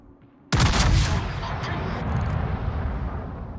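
A World of Warships naval gun salvo fires from a warship in the game, one sudden loud close blast followed by a long rumbling roar that slowly fades.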